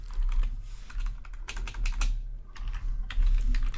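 Quick typing on a computer keyboard while entering a SQL table command, with clustered key clicks in short bursts and brief pauses, fairly close, over a low steady hum.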